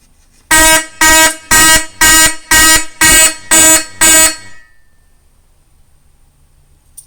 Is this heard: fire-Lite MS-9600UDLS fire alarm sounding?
yes